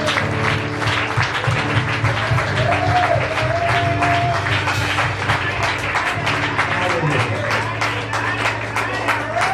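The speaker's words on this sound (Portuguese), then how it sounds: "Vamos dar uma linda salva de palmas para Deus." A church congregation applauds at length after worship, a dense wash of many hands clapping together while voices call out and sing over it.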